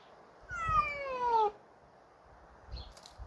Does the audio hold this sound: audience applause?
no